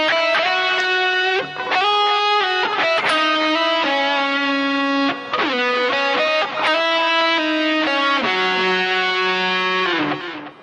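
Distorted electric guitar plays a sustained, singing melody from a song, with legato phrases and held notes, loud and continuous with no talking.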